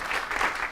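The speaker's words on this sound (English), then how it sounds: "round of applause for Ben" Brief burst of live audience applause for a questioner at a business Q&A event, a dense, fairly loud clatter of clapping lasting under a second.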